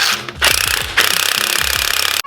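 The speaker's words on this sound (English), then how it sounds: "Tighten them down, compress the spring." A spring compressor being tightened down on a coil spring during a suspension job, giving a loud, rapid mechanical rattling hammer with short pauses, close to the microphone and without voices.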